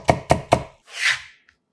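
A knife cutting carrot slices into thin strips on a cutting board: three quick, crisp chops close up, then a soft brushing sweep and a faint final tap, no voices.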